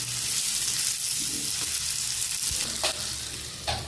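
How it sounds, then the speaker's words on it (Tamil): Tomatoes sizzle steadily in a hot pan of egg gravy, a continuous frying hiss with a few sharp scraping stirs near the end, close and alone without talk. "நம்ம தக்காளி நல்லா வதங்கி வரணும். நல்லா மிக்ஸ் பண்ணி விட்டுக்கலாம்."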